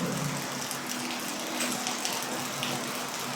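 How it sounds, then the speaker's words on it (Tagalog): Soft, steady rainfall patters faintly at a distance, a low, even wash of drops with no voices over it. "Umuulan na naman"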